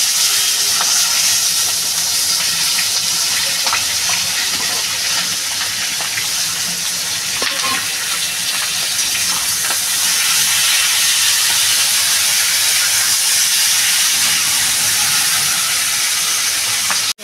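Potatoes and eggplant fry in a hot pan with garlic and cumin for a Bengali curry, giving a loud, steady sizzle and hiss that continues without a break from start to finish, with no talking.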